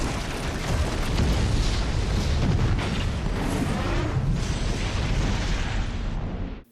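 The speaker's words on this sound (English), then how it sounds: "one of my all-time favorite movie explosions" A huge Aston Martin explosion from the film Skyfall, a sustained dense roaring blast and rumbling fire that fills the whole stretch loudly before cutting off abruptly at the end.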